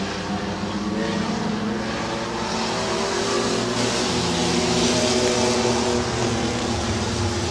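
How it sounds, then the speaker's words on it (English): Circle Track Mini Trucks race side by side through the turns at Midvale Speedway, a loud, steady, overlapping roar of several engines running close together throughout. "A lot of side-by-side racing in our 2nd heat race now for the Circle Track Mini Trucks as they work it around the turns at Midvale Speedway"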